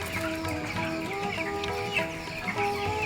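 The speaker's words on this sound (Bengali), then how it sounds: "দোতলা ঘরে মুরগির খামারটি করলাম।" Broiler chickens in a raised-platform farm on the floor of a two-storey house, a dense chorus of overlapping clucks and cheeps heard up close, steady throughout with no talk.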